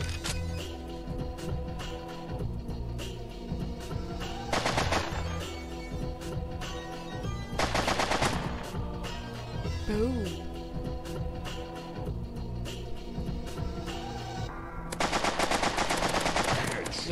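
Rapid automatic gunfire and single shots in the video game MaskGun, coming in repeated bursts with short pauses between them. A player talks over the shooting.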